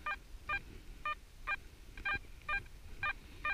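An XP Deus metal detector gives a repeated beeping signal tone, eight evenly spaced electronic pulses about half a second apart, clear and close over a quiet outdoor background.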